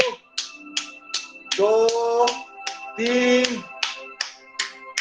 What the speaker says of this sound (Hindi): एक उंगली से ताली बजाएं जोश के साथ।